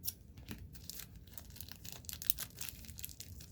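Quiet snipping and crinkling of plastic packaging on a Masters of the Universe Origins action figure being cut with scissors, a steady run of small cuts and rustles close by.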